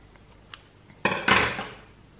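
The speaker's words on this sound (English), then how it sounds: "Now you can cut off the yarn" Scissors snip through crochet yarn close by, two quick crisp cuts in succession over near silence, followed by a brief click at the end.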